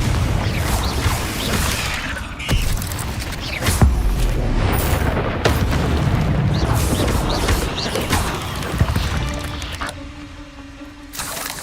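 A fire spell explodes in the Hogwarts Legacy video game: a loud, dense burst of blasts and crashing debris with rumbling low end, followed by a fading tail and a sustained tone near the end, with a voice heard briefly.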